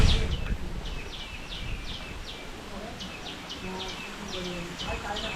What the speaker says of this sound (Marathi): किलकिल आवाज येते चिमण्यांचा